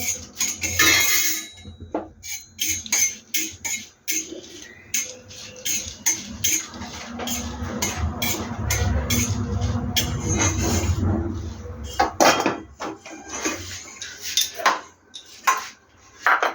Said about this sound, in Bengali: শুকনো লঙ্কাটা খালি খোলায় শুকনো লঙ্কাটা একটু ভেজে নিচ্ছি।